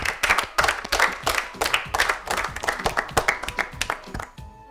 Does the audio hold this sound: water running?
no